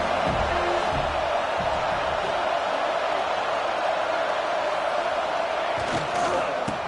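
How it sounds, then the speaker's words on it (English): Stadium crowd at a UW versus USC football game: a dense, steady roar of many voices filling the space, loud and continuous, with slight swells near the end. "This crowd ready to make its presence known."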